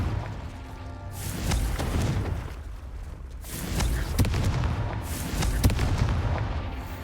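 Confringo blasting spell explosions in Hogwarts Legacy, a series of loud booming blasts with crackling bursts, several impacts spread across the stretch with rumbling decay between them.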